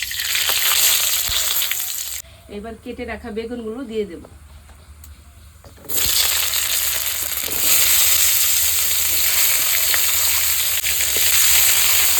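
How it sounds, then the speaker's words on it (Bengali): Lentil dumplings (bori) fry in hot oil in a wok with a loud, steady sizzle that cuts out briefly partway through, then returns at full strength. "কড়াইতে তেল গরম হয়ে গেছে এবার বড়িগুলো হালকা করে ভেজে নেব"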